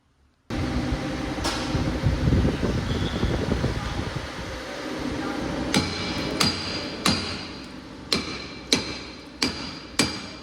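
Metal hammer blows ring out at a TVS rickshaw service centre in Pune, a run of sharp, evenly spaced strikes close by after a stretch of fan-like whirring and workshop noise.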